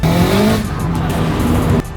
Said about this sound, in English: That's shredding tires.